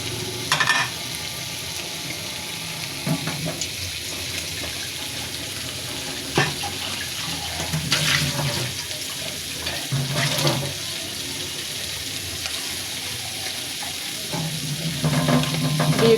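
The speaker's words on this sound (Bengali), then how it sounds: "পানি অ্যাড করে দিচ্ছি" Water goes into a hot pan of frying taki fish, bringing a broad hissing sizzle and bubbling that rises in several bursts against steady crackling oil, with occasional utensil clinks.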